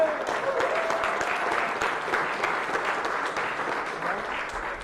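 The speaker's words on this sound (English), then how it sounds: "let's give Matt a round of applause." A crowd applauds steadily at a Republican primary election night event in Florida's District 1, a dense, sustained patter of many hands clapping close by, with some voices mixed in beneath it.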